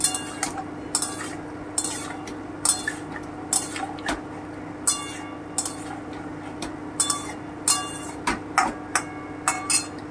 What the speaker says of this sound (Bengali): এবারে আমি রসুন বাটাটা দিয়ে দিচ্ছি। একটুখানি ভেজে নিচ্ছি।